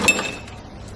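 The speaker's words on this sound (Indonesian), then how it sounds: "Sekarang kita coba yang es batu ya. Kita tekan tombol cube, kemudian kita tekan lagi tombol gelas ini." Ice cubes drop from the dispenser of an Electrolux refrigerator in a short clinking burst at the start, a close, bright rattle that quickly fades into quiet.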